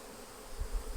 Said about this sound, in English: The bees have definitely ramped up their activity since we've started messing with them.